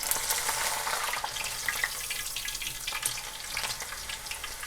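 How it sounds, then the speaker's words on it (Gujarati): Green chilli pieces fry in hot oil until crisp while a corn flake chevda is prepared. A steady, dense sizzle with crackly bubbling carries on throughout, with no voices over it. "પણ મરચાંને આપણે ક્રિસ્પી થાય ત્યાં સુધી તળવાના છે"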